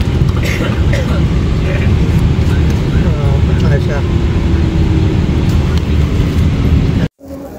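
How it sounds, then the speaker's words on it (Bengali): A Boeing 777 is pushed back toward the runway on a Chittagong to Dhaka flight, heard from inside the cabin as a loud, constant engine and ventilation rumble that cuts out abruptly near the end, with muffled voices beneath it. "আমাদের বিমানটি দেখতে পাচ্ছেন পুশব্যাক দিয়ে এখন রানওয়ের দিকে নিয়ে যাওয়ার চেষ্টা হচ্ছে।"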